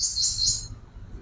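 A kacer (magpie robin) calls close by in a bright, loud burst of high-pitched chirping that stops abruptly after a moment, leaving near silence.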